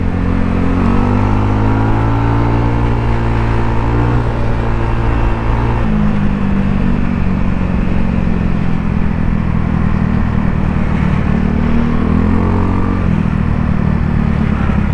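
Street traffic in a busy school area, with car and motorcycle engines idling and revving nearby, a steady low rumble with clattering throughout.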